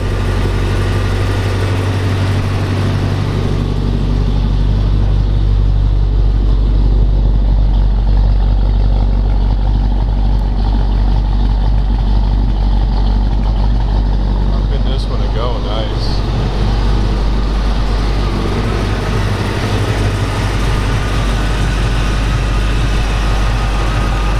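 A 1940 Ford Deluxe Coupe with a 350 Ram-Jet engine runs at a steady, loud idle for the whole stretch, its deep continuous rumble holding even, with faint voices in the background.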